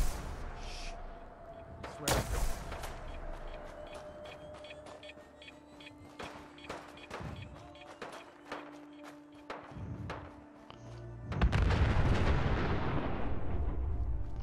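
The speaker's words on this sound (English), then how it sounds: "No, I am shooting at you, bro." Gunshots in Fallout 4 survival mode as the player shoots: a string of sharp, separate cracks with an irregular rhythm over a rumbling game backdrop, ending in a louder, sustained burst of noise.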